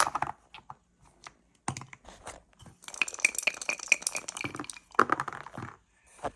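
Red and white dice roll and clatter across a hard backgammon board in repeated bursts of sharp clicks and rattles, separated by brief pauses.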